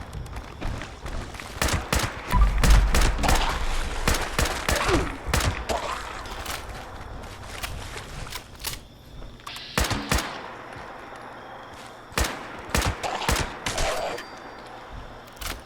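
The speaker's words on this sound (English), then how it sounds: "Why am I still using the hunting rifle at such close range?" Hunting rifle and other weapons firing in the video game Fallout 76, sharp loud gunshots in clustered bursts and single cracks, some rapid like automatic fire, separated by short quieter gaps.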